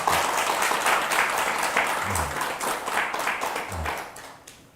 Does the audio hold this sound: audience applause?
yes